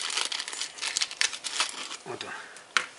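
A plastic bag crinkles and rustles up close as a new fuel filter for a Toyota Caldina fuel pump replacement is unwrapped, in irregular bursts of crackling handling with a sharper snap near the end. A voice is faintly present.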